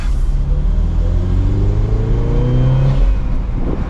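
A 2023 Chevrolet Camaro 2LT RS convertible with a manual gearbox and turbo engine accelerating, its loud, close engine note climbing steadily in pitch through a gear with a rumbling undertone.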